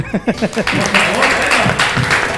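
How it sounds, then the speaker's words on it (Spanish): A small group at a casual gathering claps for someone who brought snacks, the applause rising after a brief bit of speech and continuing as a fairly loud, close clatter with voices mixed in. "Aplausos, che."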